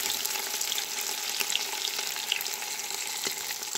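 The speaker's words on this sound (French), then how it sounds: "je l'ai fait revenir dans la cocotte minute avec notre beurre" Cooked meat browning in Moroccan butter inside a pressure cooker for a tajine with prunes, almonds and quince, giving a dense, continuous close sizzle with occasional small pops throughout.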